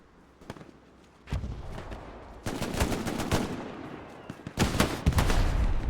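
Machine gun fire from a rooftop MG position in Hell Let Loose on Omaha Beach, with scattered shots at first, then dense sustained bursts that come loud and close, along with other gunfire.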